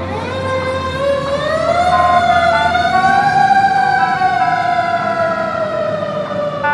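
Fire engine siren wailing loud and close, a single sustained tone sweeping slowly upward then easing down, with a low vehicle rumble beneath and no talk.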